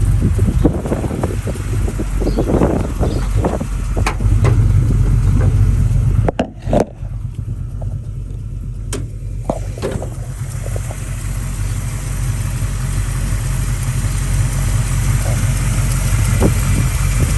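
A 1967 Chevrolet Nova V8 with a Holley 650 carburetor runs steadily, a loud, close, low engine rumble that dips briefly midway and then carries on evenly, with no talking over it.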